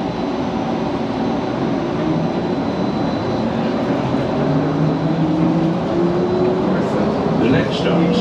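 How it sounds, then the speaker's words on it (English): Skylink airport people mover train pulling away at Dallas Fort Worth Airport, a continuous loud rolling rumble with rising electric motor whine, accompanied by an onboard announcement. "Please hold on. This train is departing."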